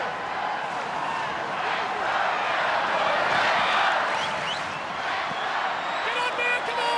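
Stadium crowd at a 2022 NRL finals week 3 match between the North Queensland Cowboys and Parramatta Eels, a dense, steady roar of cheering and noise that holds at a loud level throughout with a few brief whistles near the end.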